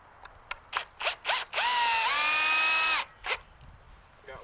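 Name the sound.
power drill driving screw into greenhouse door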